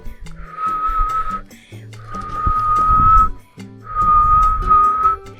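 A person whistles on a hot, windless mountain hike to call the wind, three long, steady high notes close by with brief gaps between, over background music and soft rustling.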